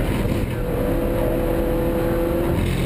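BMW Compact Cup race cars at Snetterton roar past, a loud continuous engine drone with a rising tone as a car accelerates nearby.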